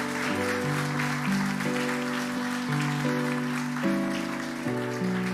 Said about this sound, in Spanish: Démosle un fuerte aplauso a nuestro Dios.